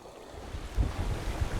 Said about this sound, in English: Here we are, sailing across to Sea Breeze Island on a reach